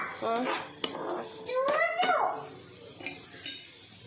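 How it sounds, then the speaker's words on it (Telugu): Green chillies and curry leaves frying in oil in a pan for egg bhurji, a soft sizzle under clinks of a utensil stirring against the pan, close by, with a brief voice-like tone in the middle. "ప్యాన్లో ఆయిల్ వేసుకొని కరివేపాకు వేసుకొని తర్వాత కట్ గ్రీన్ చిల్లీ వేసుకొని వేయించాలి"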